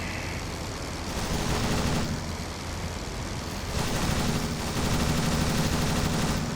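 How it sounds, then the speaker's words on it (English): Machine-gun fire from World War I-era planes in the combat flight game Rise of Flight comes in rapid, loud bursts over a droning aircraft engine, with short gaps between volleys. "I got some on my tail shooting at me"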